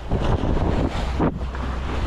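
Strong southwest monsoon wind buffeting the microphone on a fishing boat in the Pacific, a continuous roaring gust with rushing water and surf beneath, loud and close.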